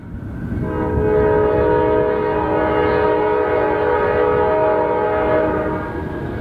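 A CSX autorack freight train rolls past in Marion, Ohio, sounding its horn in one long, loud, sustained blast over the steady rumble of the moving cars.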